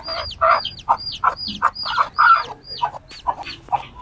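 A hen clucks in a steady run of short, close calls, the bursts coming several per second without pause.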